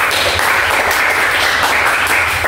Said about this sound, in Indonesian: Kita berikan tepuk tangan buat Bapak